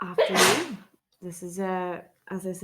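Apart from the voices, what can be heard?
sneeze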